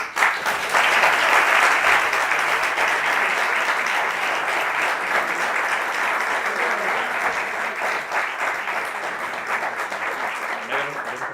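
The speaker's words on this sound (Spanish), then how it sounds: "Bueno, Antonio, para el que pide un aplauso." A crowd at a presentation on the Asturian violin claps steadily and enthusiastically, a dense wash of applause that stays loud throughout and tapers only slightly toward the end.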